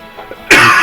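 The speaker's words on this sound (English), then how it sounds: "Oh, I just coughed up some phlegm" A person gives a single harsh, wet cough, bringing up phlegm, loud and very close after a brief quiet moment.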